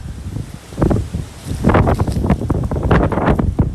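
Gusty wind blows across an outdoor park in Fort Lauderdale, roaring and buffeting the microphone in uneven surges with rustling leaves, loud and close, with no talking.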